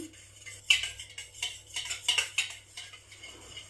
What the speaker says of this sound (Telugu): ఇలా చక్కగా బీట్ చేసుకోవాలండి